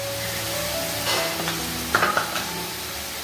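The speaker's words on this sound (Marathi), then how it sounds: "हे सर्व मिक्स करून घ्यायचं आहे थोडंसं चवीपुरतं मीठ घालते हे पहा मस्त भाजून झालेलं आहे" Spices being mixed and fried in a pan for egg tawa masala, a steady close sizzle with a few louder scraping stirs near the middle, no talking.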